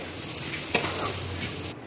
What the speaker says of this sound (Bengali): মুগ ডাল ভাজা ভাজা করে নেবো একটু